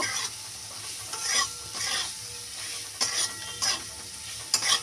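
Spices and chili powder, with green chilies, being stirred in a frying pan, giving a low sizzle broken by several bursts of scraping and stirring spaced a second or so apart.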